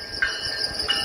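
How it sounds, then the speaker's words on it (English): A Metrolink train led by an older locomotive passes close by, giving a continuous rumble of wheels on rail with brief metallic squeals. "It's not a new locomotive this time. Well, it's an old locomotive."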